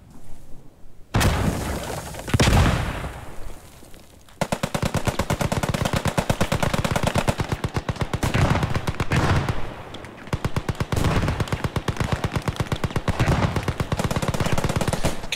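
Heavy gunfire in the World War II shooter Squad 44 at Oosterbeek: a few single shots, then long sustained bursts of rapid automatic fire, loud and close, with no talking.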